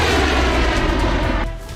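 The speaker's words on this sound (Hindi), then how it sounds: "उम्मीद के अनुसार डिफेंस सिस्टम से मिसाइल फायर हुई" Missile launch from an Indian indigenous very short range air defence system during a test at Pokhran: a loud, sustained roaring rush that fills the whole clip and fades slightly at the end.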